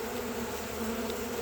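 Honeybees buzz at a homemade recycled pollen feeder, a close, steady hum of many wings with no talking.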